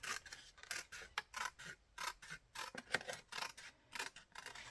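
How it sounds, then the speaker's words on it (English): Scissors snip steadily through paper or card, cutting out a middle section in a quick run of close, crisp strokes with no voices. "This bit that I'm cutting out in the middle."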